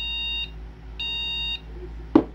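A junk-shop gaming PC motherboard, running without a cooler, gives out POST beep codes: electronic tones, with two clearly heard, evenly spaced and moderately loud, then a brief clunk near the end.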